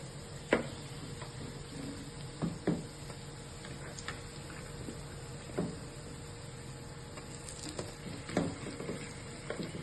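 Marinated chicken goes into a frying pan of sizzling ginger-garlic paste, giving a faint, steady low sizzle broken by several sharp clinks and stirring scrapes spaced a second or two apart.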